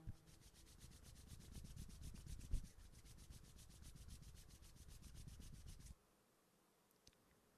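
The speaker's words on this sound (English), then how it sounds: "just rub your hands together" Palms rubbing briskly together in a quiet room, a soft, fast, steady rhythmic swishing that runs for about six seconds and then stops, leaving near silence.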